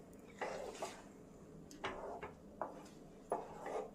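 A spoon scrapes and clinks in a pan as thickened oats kesari is stirred, with a few short, fairly quiet strokes spaced out over a few seconds.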